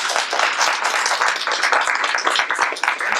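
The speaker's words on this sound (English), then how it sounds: "Can we give a round of applause?" An audience at a campus diversity panel gives a round of applause, loud, dense clapping from many hands that carries on steadily without talk.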